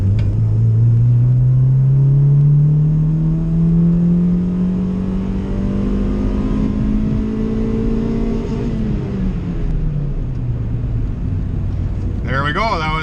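A car with a fixed bad distributor accelerating hard in second gear, a loud steady engine rumble rising in pitch over several seconds, then dropping back as revs fall.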